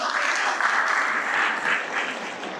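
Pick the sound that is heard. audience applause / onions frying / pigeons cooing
audience applause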